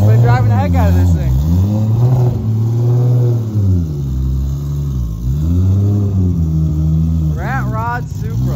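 A 1,300 hp Toyota Supra rat rod sleeper running on E85 revs hard on an in-house dyno, a loud, close engine note sweeping up and down repeatedly with rising and falling pitch throughout.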